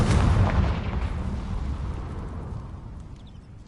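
A Confringo blasting spell explodes in Hogwarts Legacy, a single loud, deep boom that rumbles and slowly fades away over several seconds.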